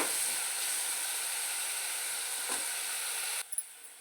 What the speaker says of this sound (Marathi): मीठ टाकून झालं की आपल्याला हलवून घ्यायचं आहे व सोनेरी कांदा होईपर्यंत 1-2 मिनिट आपण परतून घेणार आहोत.